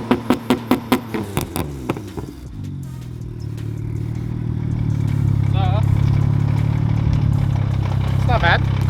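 BMW 335i with a single exit exhaust revved in a series of sharp blips that settle into a deep, steady idle rumble, with people talking over the engine.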